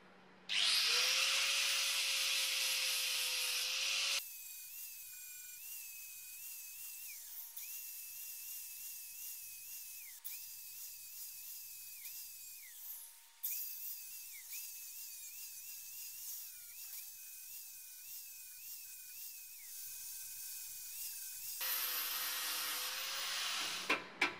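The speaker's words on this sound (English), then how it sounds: "I decided to move on to the grinder with a flap disc attached." An angle grinder fitted with a flap disc works on an old metal toolbox under restoration. A loud whine rises, settles into a long steady grinding tone with slight pitch dips under load, then winds back down.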